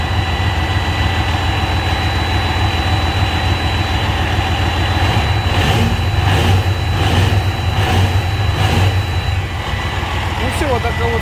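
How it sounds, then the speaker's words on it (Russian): A heavy modified 550 hp engine starting and running with a deep, steady rumble, loud and close, with brief rhythmic surges and some speech over it. "вот такой вот запуск двигателя"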